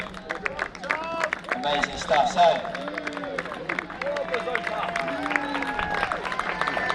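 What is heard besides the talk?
crowd cheering and applauding a race walker at an athletics meeting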